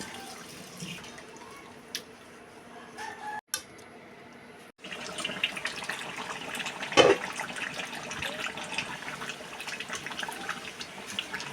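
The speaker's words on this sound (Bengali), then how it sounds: "এখন ঝোলের জন্য পানি দেওয়া হচ্ছে।" Water runs and splashes steadily into a pot of Khulna-style chuijhal beef curry with whole garlic, a close, continuous trickling pour after a brief pause, with one sharper splash midway.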